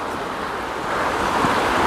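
Water of a brook rushing under a bridge along the Appalachian Trail, a steady, loud outdoor hiss with some wind, swelling slightly partway through and continuing without speech.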